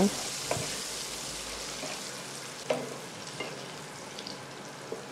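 Potatoes seasoned with salt and turmeric fry in oil in a pan, a soft continuous sizzle broken by a few spatula taps and scrapes, with no talking.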